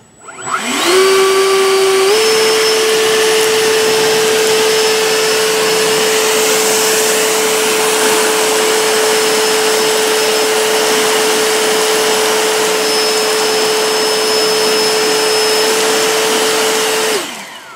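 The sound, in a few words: EGO 56V battery backpack leaf blower blowing rocks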